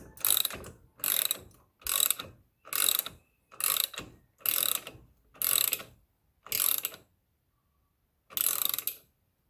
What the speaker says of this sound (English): just a regular ratchet and ratchet this thing down